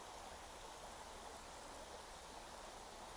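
A flowing outdoor stream gives a steady, even rush of water, continuous and moderately close, with no voices over it.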